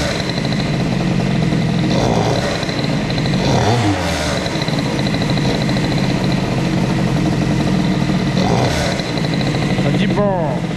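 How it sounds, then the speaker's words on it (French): A BOOST-modified Airsal CPI 70 scooter engine revs under throttle up close, its buzzing two-stroke note rising and falling in repeated blips over a steady loud drone, with talking partly over it. "ça dit quoi quand je mets un coup de gaz?"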